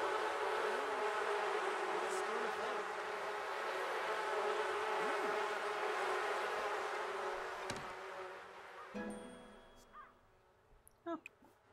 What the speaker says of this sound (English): You have no relationship with these bees, so good luck.